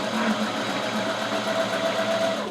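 A sewing machine stitches stretchy swimsuit fabric in one close, continuous burst, its needle hammering at a fast, even rhythm over a mechanical hum.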